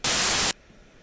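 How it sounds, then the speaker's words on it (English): A burst of loud, steady digitally generated white noise hisses across the whole range for about half a second, then cuts off abruptly to near silence. "Let's just take the word things and make it noise instead, like white noise."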